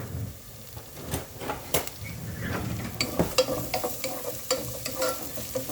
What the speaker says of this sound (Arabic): راح احط بصلة واقلبها